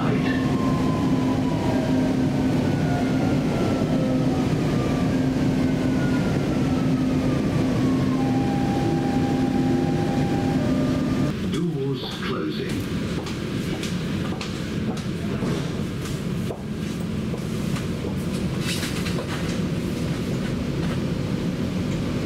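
A Dubai Metro train on the Red or Green Line runs at speed with a loud, continuous rumble, rising and falling whines from the motors and a sudden shift in tone midway, heard from inside the carriage.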